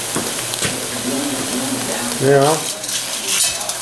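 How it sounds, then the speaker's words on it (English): Black-eyed peas with ham, garlic and seasoning are stirred in a pot, a soft scraping and sizzling texture with spoon clinks, and a brief voice speaks partway through. "just kind of stir that around, mix a bunch of that, you know, that ham and everything, garlic, all the good seasoning in there."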